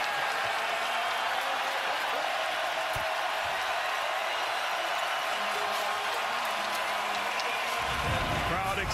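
A basketball arena crowd cheers after a Giannis Antetokounmpo dunk in a Bucks–Nets game, a loud, steady roar of many voices filling the whole stretch with scattered shouts and courtside thumps.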